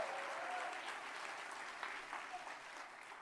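A crowd at a fundraising event keeps up sustained applause for about three seconds, loud at first and easing slightly, with faint cheering mixed into the steady clapping.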